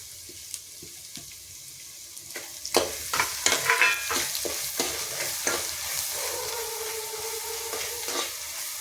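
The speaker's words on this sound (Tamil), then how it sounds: "கடைசியாக நம்ம இந்த பூண்டு மிக்ஸ் பண்ணி வச்சுருக்கிறத சேர்த்துக்கலாம்." A garlic mixture is added to rice frying in a pan and stirred in, with a run of sharp spoon scrapes and knocks against the pan over a steady sizzle that swells to a louder, hissing fry toward the end.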